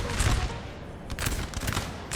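Musket volleys in a Napoleon: Total War battle recreating the 1808 Battle of Lapua, with Russian infantry firing: a short burst of crackling overlapping shots, fairly distant and dense, in quick irregular bursts.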